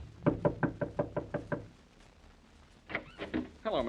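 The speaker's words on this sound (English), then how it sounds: "as he knocks on Mary Wesley's door" Seven evenly spaced knocks on a wooden apartment door in a city, close and crisp, followed by a short pause and then voices talking.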